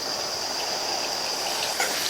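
Drumstick cooking water pours steadily into a pan of masala, a continuous broad gushing stream lasting the whole moment with no voices over it.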